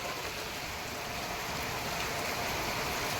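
Rain falls in a steady, even hiss with no distinct drops standing out, a constant wash of sound at moderate level and no voices.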